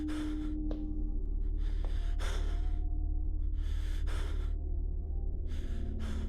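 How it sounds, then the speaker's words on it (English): Heavy breathing right against the microphone: slow, loud, rhythmic inhales and exhales in repeated bursts over a low constant hum, with faint background singing. "please stop breathing so loudly"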